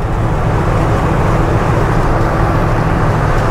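A Ford F100 pickup truck on the move, heard as a steady, loud low engine and road drone that stays even from start to finish with no talk.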